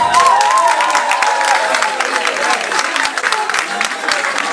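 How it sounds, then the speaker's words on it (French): Audience applause with some cheering at a religious concert in Belgium, a dense steady wash of clapping from a large crowd, loud and close, with voices and a faint held tone mixed in at the start. "Applaudissez pour vous-même."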